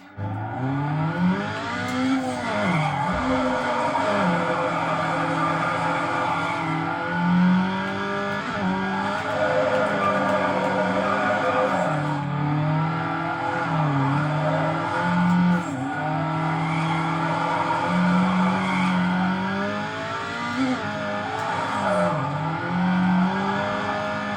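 A car in the Need for Speed Underground racing game, its engine revving repeatedly up and down as the tires squeal and skid, loud and continuous throughout with no voices.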